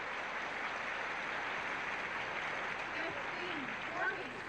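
A tennis crowd at Forest Hills applauds a volley with a steady, dense wash of clapping that holds at an even level throughout.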